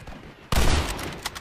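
Gunfire in the Red Dead Redemption video game during a gang shootout on a ranch, one sudden loud burst of shots that trails off into echoing reports, with a smaller crack near the end.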